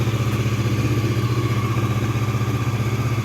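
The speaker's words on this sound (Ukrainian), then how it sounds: "Все, підсос до кінця, він вже собі робить на малих обертах" A Honda CB500 motorcycle idles on choke at low revs, a steady close rumbling throb with a light mechanical clatter, running evenly on its own with no talk.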